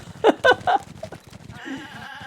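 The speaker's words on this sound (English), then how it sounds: "One of the hazards of this game is getting hit by a goat." A goat bleats in Breath of the Wild on a mountain, giving three loud, quick cries close together, followed by fainter game sounds and a short tonal chime.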